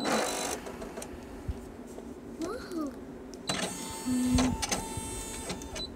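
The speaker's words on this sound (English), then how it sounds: "gonna turn this on, and my USB is plugged in because this particular patch is not saved onto my embroidery machine yet" A Brother PE 800 embroidery machine running, with a steady mechanical whir, chirping motor tones and a few beeps, followed by louder stepping and whirring noises close by.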